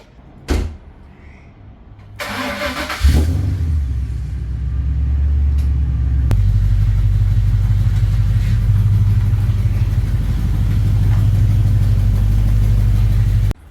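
A car door thuds shut, then an XR8's engine starts and settles into a loud, steady low rumble as the car is backed into a carport, with no talking.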